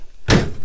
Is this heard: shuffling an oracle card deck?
no